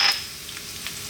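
Garlic sautéing in oil in a pan that was just used to fry salted fish, with a soft, steady sizzle and a few faint crackles and no one talking.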